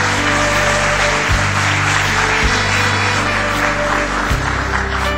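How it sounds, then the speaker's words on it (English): A conference audience claps steadily and loudly from start to finish, a dense, unbroken wash of many hands with a few low thumps beneath it. "Big smile, big round of applause."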